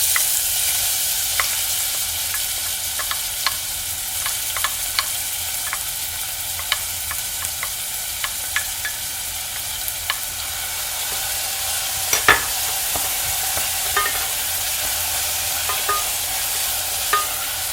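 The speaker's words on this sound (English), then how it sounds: "once the oil starts heating up, I'm gonna add in our onions" Red onions fry in heated oil on a stovetop at medium-high heat, a steady loud sizzle running throughout with faint irregular ticks and pops, one brief clatter partway through, and no speech.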